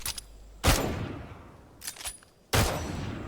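Three loud, sharp gunshots ring out with gaps between them in Naraka: Bladepoint, each ending in a short decaying tail, with faint softer clicks in between.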